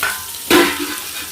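Chopped large onions drop into hot tempered oil, and a sudden loud sizzle bursts up, then settles into steady frying.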